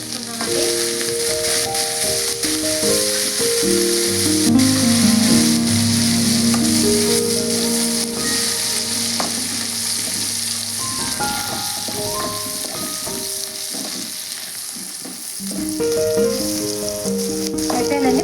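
Tomato, carrot, green chilli and curry leaves fry in a pan with a steady, close sizzle that runs the whole time, no voices over it.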